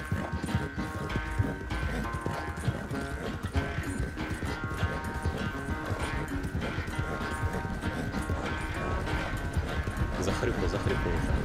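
A horse gallops in Red Dead Redemption 2 with steady rapid hoofbeats, a continuous rhythmic clip-clop over game music and ambience, while a player talks over it.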